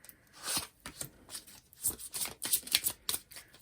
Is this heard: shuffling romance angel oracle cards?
yes